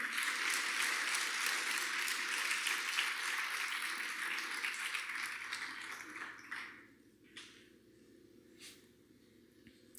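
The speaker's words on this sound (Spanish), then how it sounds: "Dale un aplauso al Señor en esta mañana." A church congregation applauds during a Spanish-language sermon. The clapping is broad and loud at first, then fades out over several seconds, leaving a few scattered taps in near quiet.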